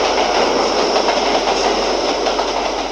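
Loud, continuous rattling roar of a subway train running on rails in the Suicide Squad mobile game, with dense clickety-clack close up and no voices.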